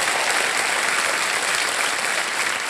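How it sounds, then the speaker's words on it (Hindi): Studio audience applause on the Hindi TV quiz show Kaun Banega Crorepati, a loud, dense, continuous wash of clapping from a large crowd, steady throughout without any voices. "तो एक बार फिर तालियों के साथ हम आपका अभिनंदन करते हैं"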